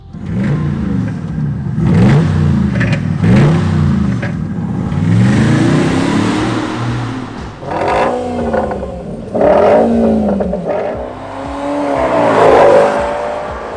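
A car engine revs repeatedly, rising and falling in pitch in a steady series of loud surges with a whirring edge.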